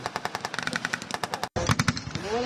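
Rapid, steady bursts of automatic gunfire during a large Bangladesh Army military exercise with tanks, APCs and foot infantry, loud and rhythmic, broken by a brief cut before a denser, heavier volley continues.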